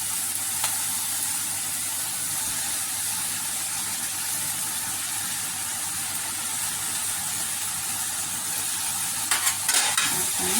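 Potato masala with turmeric and mashed potato being stirred in a pan, a continuous low sizzle with a steady hiss throughout and a few scraping spoon strokes toward the end; no one speaks.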